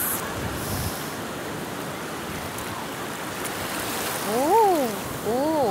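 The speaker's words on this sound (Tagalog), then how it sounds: "nindot chud ilang dagat di ay dili tugnaw" Continuous broad wash of warm sea waves surging on the shore, with a couple of high bird-like chirps near the end.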